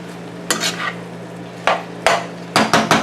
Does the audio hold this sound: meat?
yes